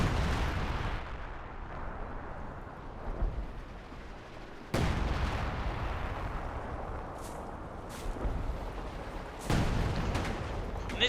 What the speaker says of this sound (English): Artillery down there.